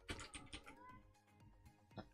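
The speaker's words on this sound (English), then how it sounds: "You hear cat? Yeah, that's Sassafras." Sassafras, a pet cat, meows repeatedly in short, close cries, about five or six quick calls in a row, faint and alone.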